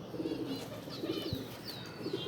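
Lal Sherazi pigeons coo softly in a repeated, throaty rhythm, faint and close together, with light chirps and background bird calls around them.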